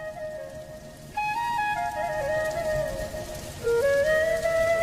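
Cartoon rain patters in a soft continuous hiss beneath light, sustained musical tones, growing a little louder partway through.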